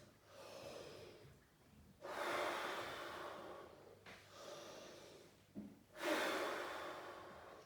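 Deep breathing exercise during a tuba class warm-up, with slow, loud, broadband breaths drawn and released alone in several long cycles, each inhale and exhale lasting a couple of seconds.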